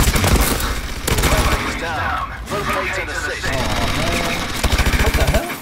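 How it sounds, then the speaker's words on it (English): Rapid automatic fire from a sentry gun in Call of Duty: Advanced Warfare Exo Survival, steady bursts of loud gunfire running through the whole stretch, with players talking over it. "My sentry gun."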